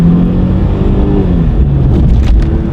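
A $500 used car speeding up on its first test drive, a loud, close engine drone rising in pitch as it accelerates, heard from inside the cabin with no talking.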